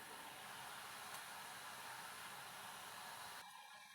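Chakli, butter murukku dough, frying in hot oil: a steady, hissing bubbling roar, close and even, cutting off abruptly near the end, with no speech.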